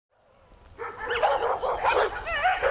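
Dogs at a shelter bark and yip in quick overlapping bursts, rising from quiet into a busy, fairly close chorus of high-pitched barks and whines.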